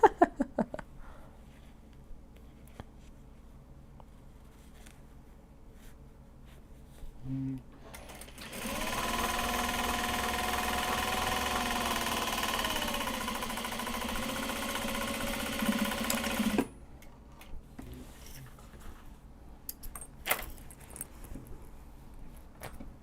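A sewing machine stitches a welt pocket with black thread in one continuous whirring run of about eight seconds, close and steady, between quieter stretches of handling noise and light clatter.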